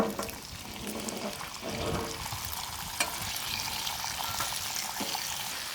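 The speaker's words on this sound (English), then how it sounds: "And we'll wait for that to start sizzling" Eggs sizzle and crackle steadily on a hot flat-top griddle, a continuous close hiss with occasional small pops.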